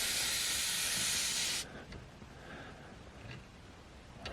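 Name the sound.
air hissing from Airlift suspension valve being opened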